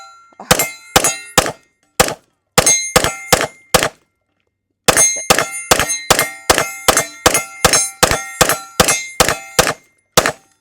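Rapid gunshots from a Smith & Wesson Spec Series pistol ringing moving steel targets, about twenty sharp clangs with metallic ring-outs in quick bursts, a pause, then a steady string of hits.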